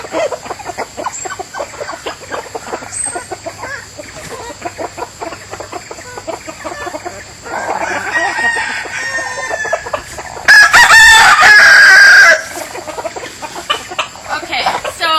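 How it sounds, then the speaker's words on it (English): Chickens cluck near and far while a rooster lets out one loud crow; a person talks over the scene. "And I think the chickens are ready."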